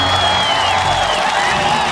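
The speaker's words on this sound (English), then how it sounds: "One more final round of applause," An audience applauding and cheering at an International Women's Day event, a continuous dense roar of clapping with scattered whoops and voices throughout.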